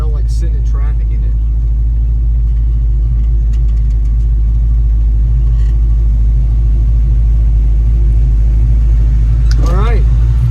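A 1969 Dodge Charger engine idles steadily while parked after a long road trip, a loud, constant low rumble filling the whole stretch, with brief voices in the car over it.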